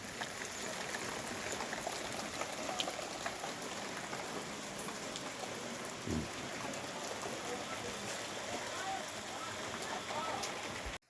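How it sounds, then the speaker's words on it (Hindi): Steady rain falling in the hills of Uttarakhand in the afternoon, a constant soft hiss of drops at even loudness throughout, with no voices over it. "फिर से आज का मौसम और बारिश अब शुरू हो गई है।"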